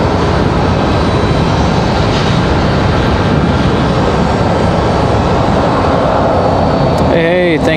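A JetBlue Airbus A220 jet passes at Raleigh-Durham with a continuous loud engine roar, and a voice cuts in near the end.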